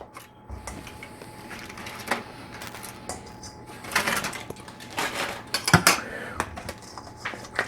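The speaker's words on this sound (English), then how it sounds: "Going to put them back in this bowl here with the sauce." Fried chicken wings being dropped into a bowl of buffalo sauce, giving clattering and scraping knocks against the bowl in irregular bursts, close by with no talking.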